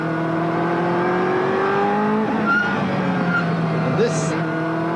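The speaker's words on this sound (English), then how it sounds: "Listen to the sound of that Ferrari as he goes into Angel Nieto corner." Ferrari GT race car at the 1995 BPR Global GT Series round at Jerez, its engine note rising and falling through the Angel Nieto corner, heard at a distance under steady commentary.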